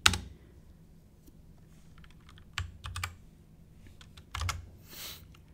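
Computer keyboard keys tapped while editing code, a few sparse clusters of sharp close clicks separated by quiet pauses, with louder thumps of larger keys.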